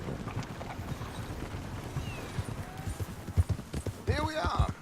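Horse hooves clip-clop in a steady trot in Red Dead Redemption 2, close and rhythmic, with someone talking over them and a brief whinny near the end.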